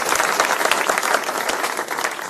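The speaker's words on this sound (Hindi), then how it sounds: "मैं चाहूंगा एक बार जोरदार ताली के साथ बहुत स्वागत करें।" Hearty applause from a crowd at a political village gathering (chaupal sabha) in Haryana, dense steady clapping sustained for a couple of seconds, no voices over it.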